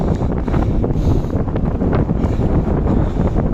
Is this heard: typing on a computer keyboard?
no